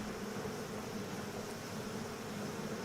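Bees in Pax Dei, a continuous dense buzzing drone that stays steady and close throughout, with no talking.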